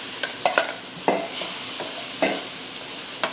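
Fresh Gulf shrimp going into a hot pan, with a soft continuous sizzle broken by several sharp scraping stirs and clinks of a utensil against the pan.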